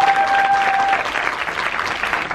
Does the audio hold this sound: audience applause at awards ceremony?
yes